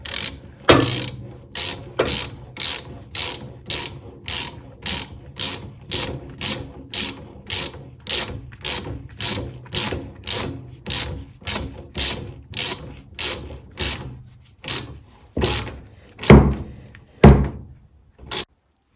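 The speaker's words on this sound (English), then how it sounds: "Now we need to do up this nut again" A ratchet wrench tightens a nut on a 1972 Bolens 1054 tube frame tractor, giving long runs of quick, evenly spaced clicks close by, with a few heavier knocks near the end and no talk.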